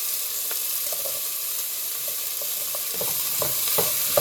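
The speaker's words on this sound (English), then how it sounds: "Mix it all together." Red, orange and green peppers frying in a pan while being stirred, a soft continuous sizzle with scattered light scrapes and taps of the utensil growing a little busier toward the end.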